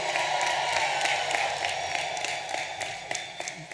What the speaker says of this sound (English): one last round of applause for your family, your friends, all the people who helped you get here today